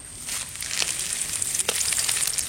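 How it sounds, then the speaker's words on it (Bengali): Bay leaf, dry chilli and cumin hit hot oil left from frying fish, setting off a sharp crackling sizzle with quick pops that swells after a brief quieter start. "মাছ ভাজা তেলে ফোড়ন দেবো, তেজপাতা, শুকনো লঙ্কা,"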